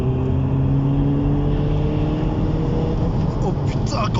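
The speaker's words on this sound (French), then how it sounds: "on va se faire 2-3 petites accélérations tranquilles, hein." A BMW 120d diesel with a stage 2 tune accelerates, its engine note rising in a loud, continuous drone with climbing tones over several seconds, heard from inside the car.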